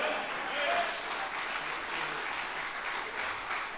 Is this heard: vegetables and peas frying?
no